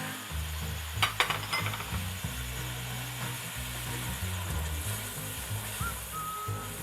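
A spoon stirs chicken karahi with yogurt and green chillies in a pan, a soft, continuous scraping over a low sizzle, with a couple of louder knocks early on and no talking.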